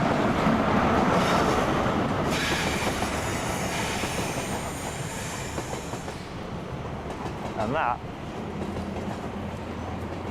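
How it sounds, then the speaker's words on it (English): A train pulls out of a station after dispatch: loud rumbling and clattering wheels under the opening, easing as it moves off, then a brief squeal near the end, with someone talking over it. "is a train dispatched safely."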